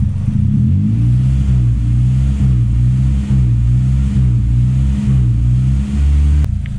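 A Toyota Starlet with a turbocharged 4E-FE engine revs hard against a safety rev cut, a loud close droning roar that stutters and dips in repeated cut-outs.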